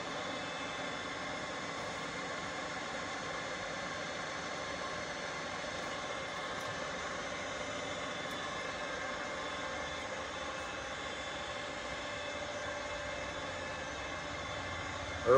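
A ZJ Z3050x16/1 radial arm drill runs at its maximum feed rate, giving a steady, even mechanical drone with a tonal whine that holds unchanged throughout.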